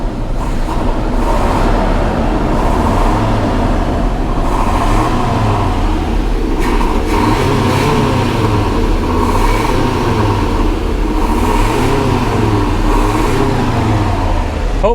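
A 1985 GMC Sierra 1500 pickup engine rumbles up close and revs in a slow, regular rhythm of rising and falling surges, loud and steady throughout.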